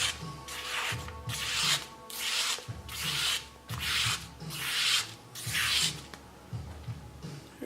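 A razor-sharp handmade knife shaves fine curls from wood in a steady series of about seven scraping strokes, each a short rasping swipe with brief pauses between, close and clear with no talking.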